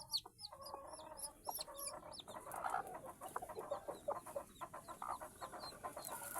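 A mother hen clucks softly beside her newly hatched chicks, whose thin, high peeps repeat throughout, fairly close but quiet, with no voices present.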